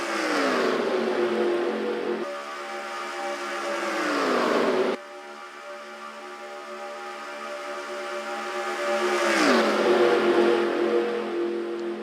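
NASCAR stock cars racing at Daytona in a video game, loud sustained engine drones that sweep down in pitch as cars pass, with one abrupt cut to a quieter stretch before another car roars by.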